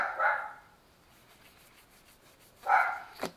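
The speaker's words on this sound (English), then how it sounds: "I don't even know what the hell they're barking at." Two short bursts of a Chihuahua and a Dachshund barking, one at the start and another near the end, separated by a quiet stretch, moderately close.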